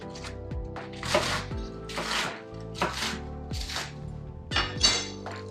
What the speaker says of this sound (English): Finish chopping up the salad.